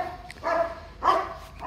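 Dogs in a tropical garden in Papua New Guinea giving two short, fairly distant barks about half a second apart, faint against quiet surroundings.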